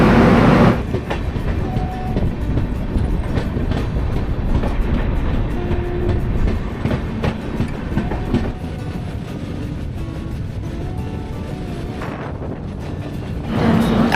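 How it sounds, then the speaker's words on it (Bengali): Doon Express 13009 rolling into Ayodhya Cantonment station, a steady loud rumble of wheels and carriages with faint clickety-clack that eases slightly as the train slows, with no talk over it. "আমাদের ট্রেন এখন এসে পৌঁছেছে অযোধ্যা ক্যান্টনমেন্ট স্টেশনে"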